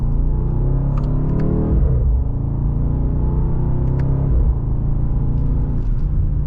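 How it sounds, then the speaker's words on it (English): Engine of a 2025 BMW M850i xDrive Gran Coupe in sport mode, second gear, under mild acceleration, heard from inside the cabin as a steady loud rumble rising in pitch, dipping at quick paddle shifts and climbing again. "Just a mild acceleration."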